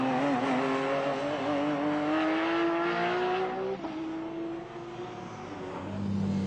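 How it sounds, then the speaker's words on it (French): Racing cars at the Magny-Cours circuit during a Euroscar race, a loud, continuous engine howl whose pitch climbs steadily through the gears, briefly dips as a car shifts, then builds again as more cars pass close by. "Gabriel, lui, se dirige vers sa 3e victoire de la journée devant Hoffmann et Axerias"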